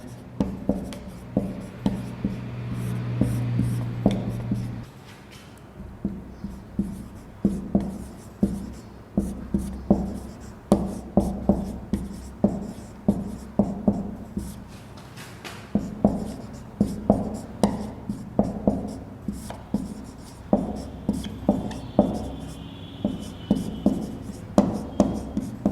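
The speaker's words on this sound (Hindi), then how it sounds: "इसके लिए भी एक उदाहरण लिखते हैं।" Pen or chalk writing out a Hindi example sentence by hand, a steady series of short scratchy strokes with brief pauses between words, close and clear, with no talking.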